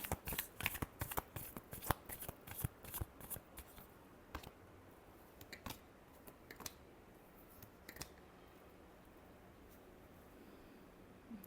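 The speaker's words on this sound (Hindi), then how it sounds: "Last shuffle." A deck of tarot cards being shuffled gives rapid, close riffling clicks and flutters in quick bursts at first, then sparser single snaps over a quiet background.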